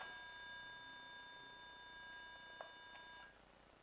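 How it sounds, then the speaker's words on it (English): A temperature alarm that sounds above 45 degrees Celsius gives a steady electronic tone with several high pitched harmonics, continuous at moderate volume, then cuts off near the end, leaving faint background noise. "if the temperature actually gets above 45 degrees Celsius, you will hear an alarm"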